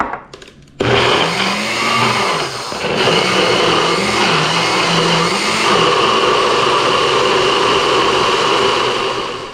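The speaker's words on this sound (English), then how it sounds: "we're going to put it in the blender. We're going to blend it up" A blender whirs loudly and steadily after a brief quiet start, blending a marinade for oxtail, its motor pitch wavering as it churns, continuous to the end with no talking.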